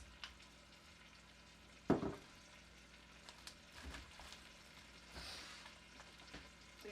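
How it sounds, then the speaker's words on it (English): Food is stirred in a pot on the stove with soft, quiet scraping and sizzling and a single louder clunk early on, with no voices. "so we're gonna stir. Stir, stir, stir, baby."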